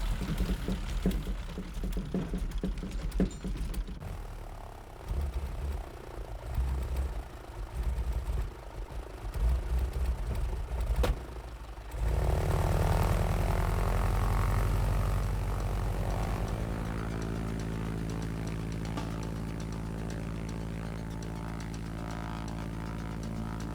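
A propeller airplane engine, running with carburetor ice in air at twenty below, starts with uneven, rough noise, then settles into a steady loud drone that holds to the end.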